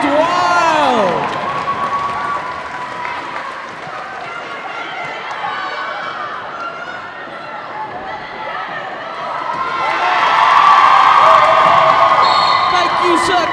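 Crowd cheers, whoops and applauds loudly at a roller derby match, swelling toward the end of the stretch, with a sustained wash of voices and clapping.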